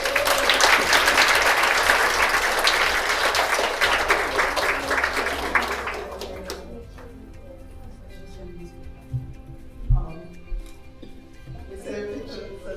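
An audience at a 2017 Hong Kong event applauds to welcome a speaker: dense, steady clapping for about six seconds, then fading to scattered claps and room murmur.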